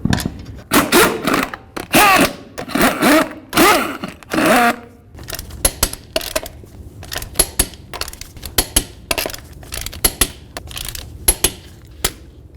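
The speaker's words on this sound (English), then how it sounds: "torque those lug nuts to 122 foot-pounds" Lug nuts on a Jeep Wrangler wheel are worked with a wrench after a front wheel bearing and hub replacement, giving a run of loud, close metallic clicks and ratcheting knocks in uneven bursts.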